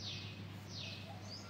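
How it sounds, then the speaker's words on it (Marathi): Small birds chirp faintly in the morning outdoors, with a few thin, high calls over a steady low hum. "पक्ष्यांचा छान किलबिलाट चालू आहे"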